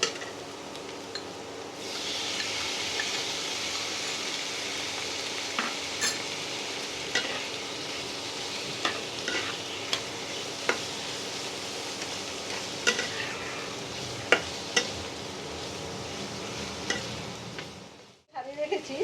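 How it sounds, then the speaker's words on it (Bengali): Prawns fry with onions in a pan for pointed gourd with prawn, a steady close sizzle and hiss running throughout, broken by occasional stirring scrapes and light clinks of a utensil against the pan. "এবারে আমি চিংড়ি মাছগুলো ভেজে নেব"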